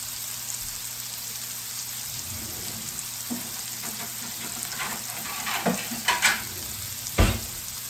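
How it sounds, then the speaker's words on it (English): Mushrooms fry and caramelize in a pan, seasoned with black pepper and salt, giving a steady soft sizzle with a few louder crackles and stirring clatters toward the end, no talking. "Got a pretty good caramelization on these mushrooms."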